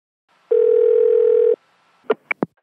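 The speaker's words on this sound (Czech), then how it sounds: "Dana Moravcová telefonuje do firmy Real Service." A steady telephone dial tone holds for about a second, then three short electronic beeps follow as a call is placed to a company's line; no voices.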